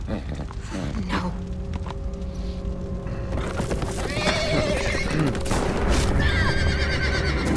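A dying horse whinnies in The Walking Dead video game, with several strained, wavering neighs up close over clip-clopping hooves and background rumble.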